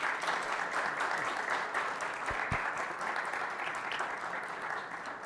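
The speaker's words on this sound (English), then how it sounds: "I guess we need to give them a thunderous round of applause" A seated audience at a critical care hospital panel discussion gives a sustained round of applause, a dense and steady wash of clapping that holds at even loudness for the whole stretch.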